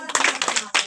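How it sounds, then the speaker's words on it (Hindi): A group of children claps in a few quick, close, fairly loud bursts lasting about a second. "तालियां बजाएंगे"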